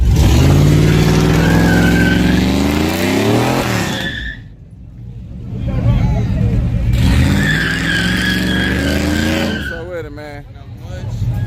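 Loud tire squeal and screeching skids from a manual-transmission street car doing a burnout at a small-tire drag racing event, over a revving engine, in two long bursts separated by a brief lull, close by.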